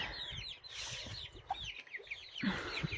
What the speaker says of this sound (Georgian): 31 წიწილი ვიყიდეთ, აი, ჩემი წყლილი.